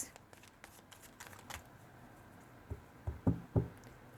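Tarot cards being shuffled by hand, a quick run of soft riffling flicks followed by several duller taps as the deck is squared, close and quiet.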